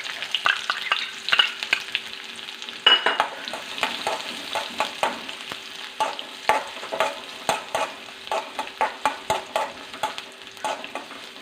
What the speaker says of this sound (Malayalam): കടുപൊട്ട തുടങ്ങി നമുക്കൊരു ഉള്ളി ഇടാമേ ഉള്ളി ഇടുവാണേ അതിൻ്റെ കൂട്ടത്തിൽ ഉള്ളി മുളകും കൂടി ഇടുക